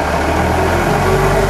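A used Japanese forklift's engine drones loudly and steadily up close, a deep continuous rumble as the throttle is opened, with no voices over it.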